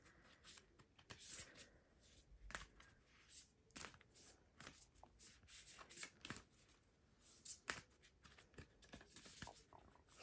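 Tarot cards being shuffled close up, a run of riffles and soft flicks in irregular bursts, with brief pauses between.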